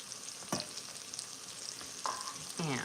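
Steady sizzling of food frying in a pan, with a few scraping strokes as a spoon stirs it, close and moderately loud.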